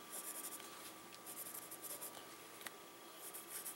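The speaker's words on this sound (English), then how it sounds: "pencil markings." Pencil lead scratches across paper in short, quiet strokes that come in bursts with brief pauses, close and soft, with no voices.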